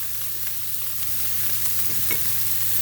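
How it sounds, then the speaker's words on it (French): Pieces of filet mignon browning in a pan, a steady close sizzle and frying hiss throughout with a few faint stirring scrapes, no voices. "Voilà, les morceaux commencent à bien dorer."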